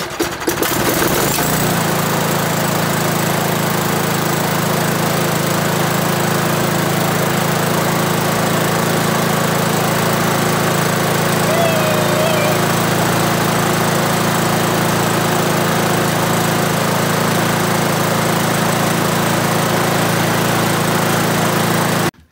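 A Victa Sprinter lawn mower engine catches after a brief start-up burst, then runs loud and close with a steady, even drone that holds for about twenty seconds.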